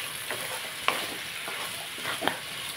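Potato, beetroot and carrot sizzle in a pan with salt and turmeric while a spoon stirs them, producing a low steady hiss broken by a few scraping sweeps and two sharp clinks.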